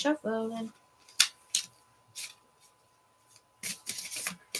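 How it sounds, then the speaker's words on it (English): Tarot cards being shuffled by hand, giving scattered crisp riffles and papery flicks in separate bursts, with a short spoken phrase at the start. "Okay, we're shuffling now."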